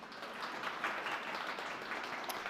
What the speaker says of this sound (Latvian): Arī lūdzu aplausi.